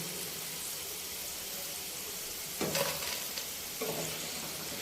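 Potato chips fry in hot oil, giving a steady crisp sizzle throughout, with two brief louder bursts of bubbling and stirring partway through.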